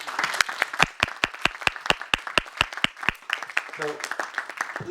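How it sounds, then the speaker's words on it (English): Applause for a discussion panel at a fundraising launch event, made of rhythmic, sharp claps that sound like only a few people in unison against a thinner background of scattered hands, with a voice briefly coming in near the end. "Can we please give the panelists a round of applause?"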